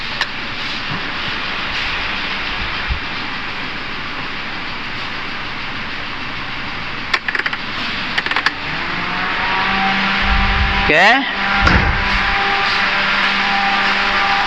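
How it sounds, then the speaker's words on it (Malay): A Toyota Avanza F651 with a broken timing chain idles with the air conditioning switched on, giving a steady, continuous engine hum at close range with a brief spoken word near the end. "Jadi kita akan onkan aircon, enjin steady ke tidak?"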